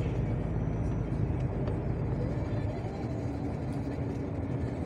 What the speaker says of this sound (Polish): mijając samochody